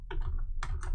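Keys clatter on a computer keyboard while someone writes QBASIC code: two quick close bursts of typing separated by a short pause.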